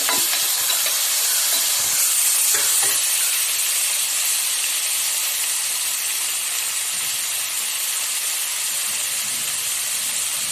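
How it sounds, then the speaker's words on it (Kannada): Loud, continuous sizzling and crackling of a chili tempering frying in hot oil for bisi bele bath, steady throughout with no voices. "ನಂತರ 1 ಮೆಣಸಿನ್ಕಾಯಿ ಒಗ್ಗರಣೆ ಹಾಕ್ಬೇಕು"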